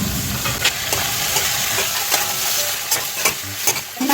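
Chicken pieces, tomato and potato frying in a pan, a steady close sizzle with periodic clicks and scrapes from stirring, no voices.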